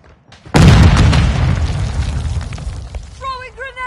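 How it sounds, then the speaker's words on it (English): A video-game grenade detonates with a sudden loud, close boom that rolls into a long, fading rumble, followed by faint chirping tones. "Throwing grenade!"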